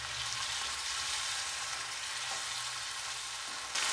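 Pineapple pickle sizzling in a pan right after vinegar is poured in, a steady broadband frying hiss held at even loudness throughout, with a slight rise in the final moments.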